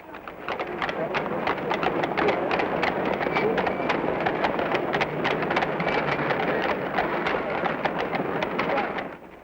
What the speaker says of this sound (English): horses were still pulling wagons and carts, buses and hansom cabs